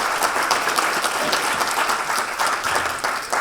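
An audience at a talk on good governance and economic transformation in Somalia claps steadily and densely, filling the room evenly, with no voices heard over it.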